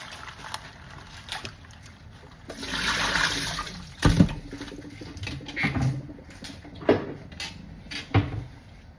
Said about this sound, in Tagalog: Hugasan ko na guys, hugasan natin.